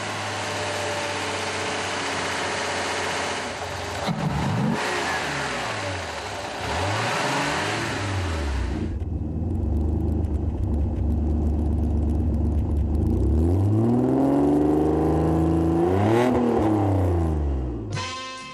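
Senator with a 3-liter, 180-horsepower engine and automatic transmission cruising on the Autobahn, engine revving and shifting through smooth gear changes, loud and close, no voices.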